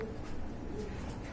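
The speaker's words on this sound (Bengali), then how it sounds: "বন্ধুরা, এখানে আছে এক জোড়া টেল মার্ক কবুতর" Tail-mark pigeons at a pigeon sale give soft, low coos, faint and close, over a murmuring background with no clear speech.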